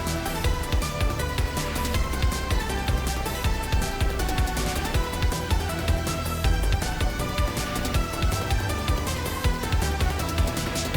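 Dense J-rock style music track written for an indie game, with driving full-band rhythm and steady beat pulses, loud and continuous throughout, no voices.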